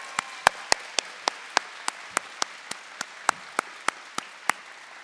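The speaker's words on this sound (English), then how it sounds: "the graduating class of 2026 owes a round of applause to all those who have supported us" At a graduation, a single set of hands claps at an even, steady pace, with about a dozen and a half crisp, close claps over a faint quiet background.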